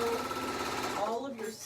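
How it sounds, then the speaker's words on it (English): A Featherweight sewing machine runs fast on a straight seam, its steady rapid stitching whir carrying close and continuous before briefly slowing near the end. "maybe your featherweight sews really fast, because all you need this to do is straight sew really fast"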